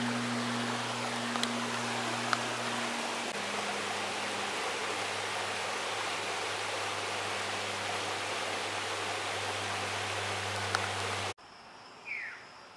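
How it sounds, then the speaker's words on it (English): The small waterfall of Bungee Brook in Woodstock, Connecticut, gives a steady, dense rushing roar with a faint low hum beneath it, then cuts off abruptly near the end and leaves quiet outdoor ambience. "walk just downstream a short distance to the falls of Bungee Brook"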